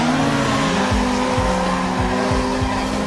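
Race car engines roar loudly while tires squeal repeatedly in a driving video game, with sharp skids and revving pitch sweeps overlapping throughout the short burst.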